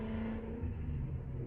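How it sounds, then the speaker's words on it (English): A loud Ford Mustang idles and revs in traffic, heard from inside a nearby truck as a deep, steady engine rumble with a low droning tone, moderately loud and alone without talk. "loud Mustang."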